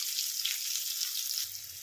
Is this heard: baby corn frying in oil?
yes